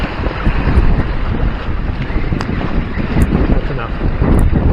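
Steady strong wind buffeting the microphone aboard a sailing trimaran on open water with two-to-three-foot waves, a continuous loud rushing roar throughout.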